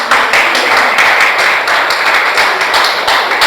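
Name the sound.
church congregation applauding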